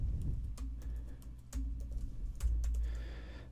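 Rapid typing on a computer keyboard, close and clear, with irregular clusters of key clicks and a brief pause midway, no voices.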